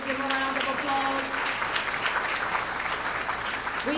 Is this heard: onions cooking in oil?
no